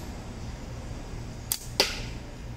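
A slingshot shot whooshes out and a moment later strikes a metal pot with a sharp bright impact that rings briefly, over a quiet outdoor hum.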